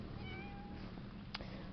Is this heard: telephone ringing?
no